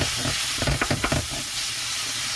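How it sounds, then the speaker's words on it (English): Ground pork sizzles in a hot pan with a constant close frying hiss, broken by a few quick scraping strokes as the meat is broken into pieces. "Add in the ground pork. Break it into pieces."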